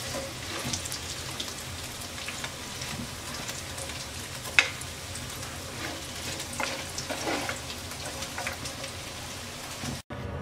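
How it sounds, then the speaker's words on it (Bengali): Fried chhana (cottage cheese) lifted out of hot oil while it keeps up a steady, dense sizzle and crackle for a Bengali chhanar kalia, with one sharp clink partway through and no talking. "ছানা ভেজে নেওয়া হয়ে গেছে,"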